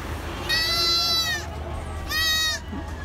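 Goats at a Kerala livestock market bleat twice in quick succession, two loud wavering cries rising over a steady murmur of crowd noise in the background.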